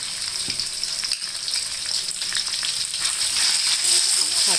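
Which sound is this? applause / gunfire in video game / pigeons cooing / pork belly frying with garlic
pork belly frying with garlic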